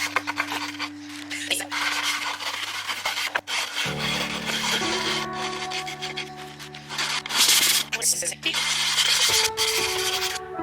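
Stripped paint is scraped off a thrifted piece of furniture in repeated close rasping strokes, with sustained tonal hum underneath.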